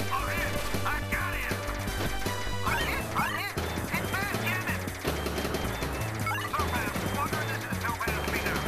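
Rapid ship gunfire from the shooter game Silpheed, a dense stream of shots and blasts layered over loud game music throughout.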